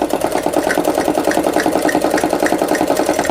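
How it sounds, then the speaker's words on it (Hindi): A sewing machine runs steadily at speed, stitching salwar kali and panel pieces together for a girl's outfit, with a fast even mechanical chatter, close and alone. "इस पे सिलाई कर देंगे हम।"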